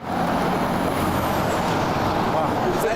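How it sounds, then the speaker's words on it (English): Steady, loud road traffic rumbles past on a Winnipeg street, trucks among the vehicles, with a continuous wash of engine and tire noise, a brief high hiss near the start and a faint voice underneath. "Another obvious change is traffic."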